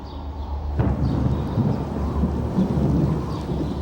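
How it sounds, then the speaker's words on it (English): A midsummer thunderstorm rumbles low and heavy beneath a constant wash of rain, with a sharp crack of thunder about a second in, then rolling growls that carry on to the end. "The midsummer rains were approaching."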